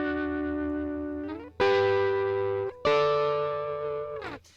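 A distorted electric guitar chord played high on the neck rings out and sustains, followed by two more sharply struck chords that each decay, with a brief scrape at the end.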